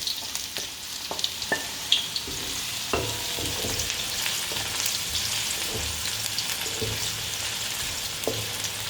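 Onion and garlic sauté in a pan, a steady close sizzle and frying hiss broken by scraping stir clicks and light spatula knocks, with no talking.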